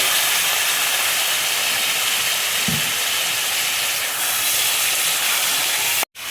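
Cumin and coriander powder masala for an egg curry hisses and sizzles loudly in a hot pan as a little water is poured in. The steady hiss holds throughout, with a brief cut just before the end.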